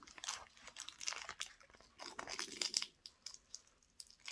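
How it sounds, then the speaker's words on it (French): Sticky tape being peeled and torn off a cardboard package during an unboxing of scrapbooking supplies, giving close, irregular crackling rips and crinkles in short bursts with brief pauses. "j'essaye d'enlever le scotch en même temps"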